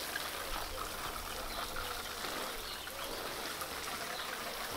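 A 10-litre watering can pours a steady, soft patter of water over freshly planted winter leeks in a garden bed, a faint continuous trickle and spatter outdoors with no voices.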